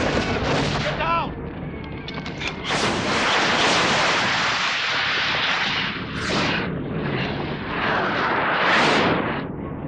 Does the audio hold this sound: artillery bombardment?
yes